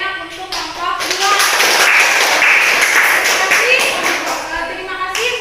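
Classroom applause for a student group's presentation on flora and fauna, brisk hand claps mixed with shuffling and a voice talking over them, close and fairly loud throughout.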